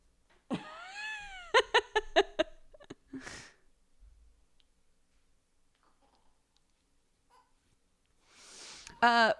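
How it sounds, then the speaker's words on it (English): A cat gives several short, rising meows in quick succession, followed by quiet, then a voice and another brief meow near the end. "Welcome, you fine cat."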